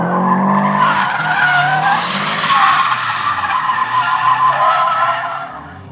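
A worn Infiniti G35 drifts on an open skid pad and its tires screech loudly in one long, sustained skid over engine noise. The squeal wavers and then fades at the end.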